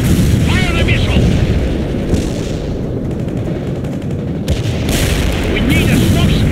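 Missile hits and gunfire in a military video game burst out as heavy booms and crackling shots over a dense battle din, with voices calling out amid the noise.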